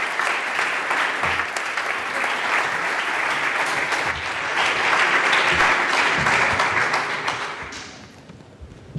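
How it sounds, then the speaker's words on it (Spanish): A hall audience at the Álava medal ceremony gives sustained applause to the president of Deportivo Alavés, dense and even clapping that swells midway and tapers off near the end. "Recibimos con un fuerte aplauso al presidente del Deportivo Alavés"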